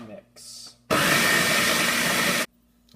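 Blender running on tomatoes and basil for homemade tomato sauce, a loud close whir lasting about a second and a half, with quieter handling noises before and after.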